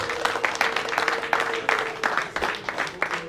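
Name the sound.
applause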